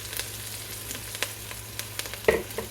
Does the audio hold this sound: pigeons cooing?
no